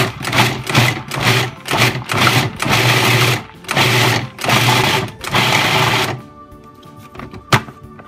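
A food processor whizzes cheese and butter in a series of loud, short pulsed bursts, about seven whirring runs separated by brief pauses, before the motor stops and a single light clatter follows.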